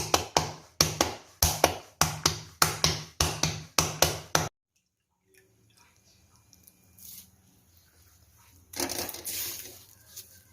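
Thick jowar (sorghum) roti dough being patted flat by hand, a steady run of about a dozen close, sharp slaps in the first half, then quiet with faint kitchen handling noises.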